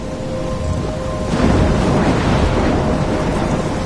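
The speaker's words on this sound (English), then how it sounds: "I'm trapped in a storm?" A thunderstorm with rain in the Life is Strange video game, a dense rushing wash of rain and wind that swells into a low rumble of thunder partway through and stays loud to the end.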